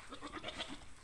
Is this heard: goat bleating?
yes